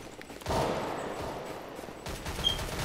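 Gunfire in CS:GO: a short burst of rapid shots starting abruptly, then a second volley a moment later, moderately loud with no talk over it.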